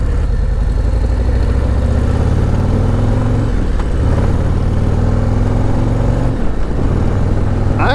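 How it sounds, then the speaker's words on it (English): A Harley-Davidson motorcycle engine on an open road gives a loud, continuous low drone with the throttle opening up. The revs surge briefly twice, and no talk is heard. "I'm going to open this thing up just a little bit and see how she does"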